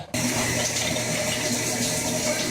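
Shower water running in a bathroom, a steady, close hiss of spraying water that starts abruptly and continues evenly without pause.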